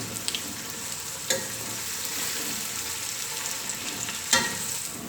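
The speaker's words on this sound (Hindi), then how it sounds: "प्याज को अच्छी तरह गोल्डन ब्राउन तक पका लेंगे।" Onions fry in oil in a pot for matka biryani, a steady close sizzle with a few sharper crackles and stirring scrapes.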